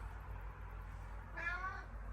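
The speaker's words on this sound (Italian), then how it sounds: "Qua c'è anche un gattino nel tiragraffi." A kitten on a scratching post gives a single soft meow near the end, faint beneath a steady low background hum.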